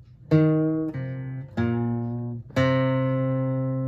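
A slow guitar phrase of four sustained notes, each plucked and ringing out, some pitches sliding slightly as strings bend; no talking.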